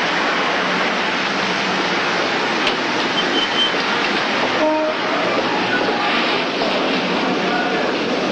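A loud, continuous rumbling roar of a train moving close by, steady throughout with faint metallic squeals and clatter underneath.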